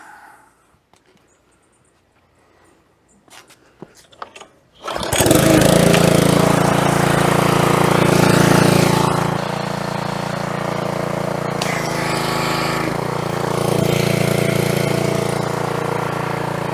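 An old gas pressure washer engine is pulled and fired up after a few faint handling clicks and tugs, then catches and runs loud and steady nearby, its droning idle shifting slightly as it settles.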